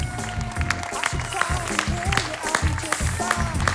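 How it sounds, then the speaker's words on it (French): Spectators applaud at a prize-giving ceremony for the Mont-Blanc Marathon 80 km race, steady clapping from a crowd running throughout beneath someone speaking over a public address system. "Vous pouvez les applaudir, la catégorie V3 hommes."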